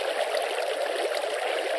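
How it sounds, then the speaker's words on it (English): Water running through a game canal as a constant, smooth stream noise, bright and hissing, unchanging from start to end with nothing else over it. "the water is flowing that way there"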